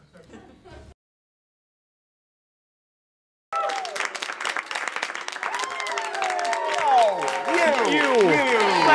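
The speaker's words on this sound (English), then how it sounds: "Clap" Studio audience applause from a comedy show erupts after a brief silence, loud, dense clapping that swells and carries whistles and cheers toward the end.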